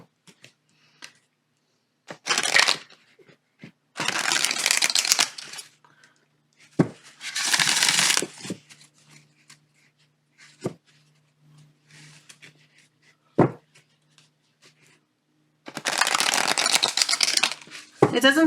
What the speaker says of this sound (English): if you do like shuffling your cards in this way, it should be okay